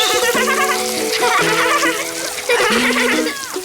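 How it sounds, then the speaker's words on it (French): Shower water splashes in a French cartoon, a bright spattering spray alongside tonal cartoon sounds and music-like notes, loud and close. "Une bonne douche!"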